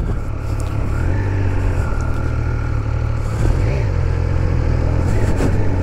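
A Triumph Speed Triple RS motorcycle engine runs loud and close, droning with pitch steps as the quickshifter changes gears without the clutch.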